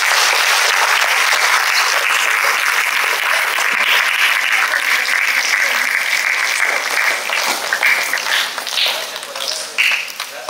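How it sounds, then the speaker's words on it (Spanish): Dense, loud applause from an audience at a school talk fills the room without pause, a wash of many hands clapping that only begins to thin and break up near the end. "Le damos un aplauso."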